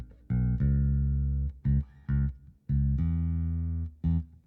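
An electric bass guitar with a mid-range EQ boost plays a short riff of sustained, round low notes and quick plucks, loud and dry with brief gaps between phrases.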